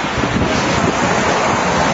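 Strong wind gusts across an open beach, probably with surf, forming a loud, steady broadband roar that buffets the microphone for the whole stretch and drops away only at the very end.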